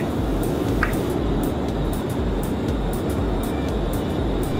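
Aircraft engines rumble steadily as planes taxi in the FlightGear flight simulator game, a continuous low drone with faint periodic thumps, with no voices.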